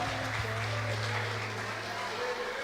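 During an evening family worship service, a church congregation applauds the Lord, producing a fairly quiet, continuous patter of many hands over a low hum, with voices talking alongside it.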